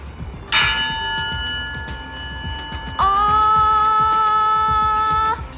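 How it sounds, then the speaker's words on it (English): A middle C tuning fork is struck and rings with a bright, sustained metallic tone, then is struck again louder and rings steadily until cut off, with no talking. "This tuning fork's a middle C."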